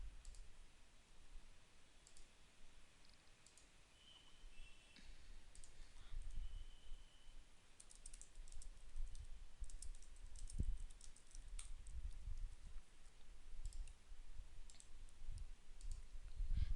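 Typing on a computer keyboard while entering data produces soft, quick clicks in irregular bursts, faint and steady over a quiet background, with no talk.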